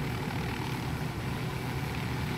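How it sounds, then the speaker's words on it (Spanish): A slightly damaged helicopter flies in Ghost Recon Wildlands, giving a loud, unbroken engine and rotor roar close by. "Igual aprovechar el helicóptero, aunque esté un poco dañado, creo que igual nos va a llevar al punto"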